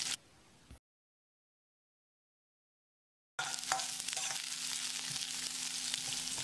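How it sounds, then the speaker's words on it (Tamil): Sliced onion sautéing in oil for Idli 65, a steady bright sizzle at close range that follows a short cut of silence, with faint stirring scrapes in the pan. "வெங்காயத்தை கண்ணாடி பதத்துக்கு வதக்கிடலாம்."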